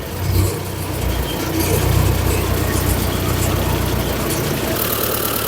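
A tractor's diesel engine idles steadily outdoors, a low continuous rumble with some wind noise and no speech.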